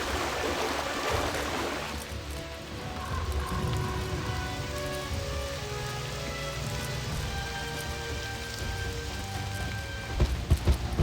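Steady, heavy rain in the video game Wizard101 pours continuously, a dense hiss of drops pattering on surfaces, with a faint low rumble beneath and no voices.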